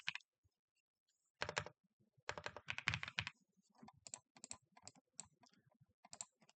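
Keystrokes on a computer keyboard come in irregular bursts of close, crisp clicks, with short pauses between runs of typing and no talking.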